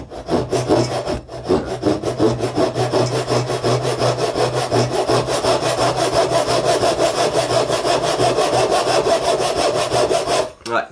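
A hand saw with more widely set teeth cuts through wood in quick, steady back-and-forth strokes, close and loud, with a brief pause near the start and the sawing stopping just before the end.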